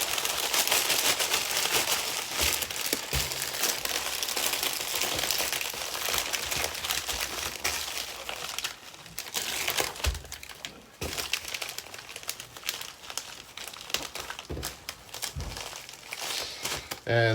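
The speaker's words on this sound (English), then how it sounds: "And then I just throw it in a padded envelope." Resealable plastic bag and padded envelope crinkling and rustling while clothing is packed for shipping, a close, busy run of crackling handling noise with brief sharper crinkles throughout.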